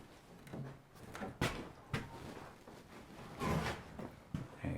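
Old door with spring-loaded hinges at an abandoned desert homestead or mining camp, creaking and knocking faintly through several open-and-shut movements, with scattered thuds and rattles.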